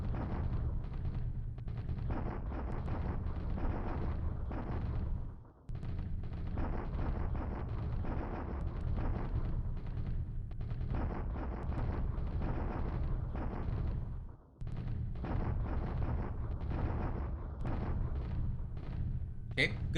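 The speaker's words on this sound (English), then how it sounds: "good bombardment today." Bombardment in a Pacific war strategy video game, heard as a sustained heavy rumble of artillery-like booms and crackling gunfire rolling on continuously, briefly cutting out twice, with voices mixed into the din.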